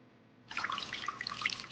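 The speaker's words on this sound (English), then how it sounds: "Then I wash the dishes." Tap water starts running into a sink while dishes are washed, a close, steady splashing rush that begins abruptly after a quiet moment and continues alone.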